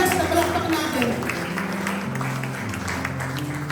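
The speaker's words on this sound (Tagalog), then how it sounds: "Bigyan po natin ang palakpakan, Panginoon Diyos." A congregation applauds during a church service: steady, dense clapping from many hands throughout, mixed with background music and some voices.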